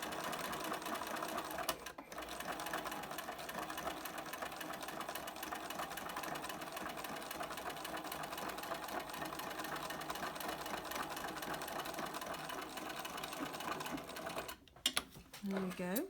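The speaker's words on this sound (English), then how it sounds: "So you're basically stitching through about 4 layers at this point." A sewing machine stitches steadily through four layers of a fabric mask, a fast, even, faint whirring hum near at hand that pauses briefly twice.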